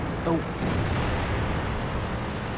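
A single heavy tank cannon shot in World of Tanks, a loud booming blast early on that fades into a rumbling, noisy tail, with a voice briefly audible.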